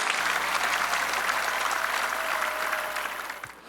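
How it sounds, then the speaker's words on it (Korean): A congregation at a Sunday prayer service applauds in thanks to bereaved families, producing a full, steady wash of clapping that holds evenly and then tapers off near the end. "유족들에게 감사의 박수를 보냅시다"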